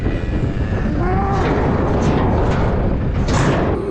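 Cattle on a farm moo loudly several times close by, their low drawn-out calls overlapping against steady outdoor background noise.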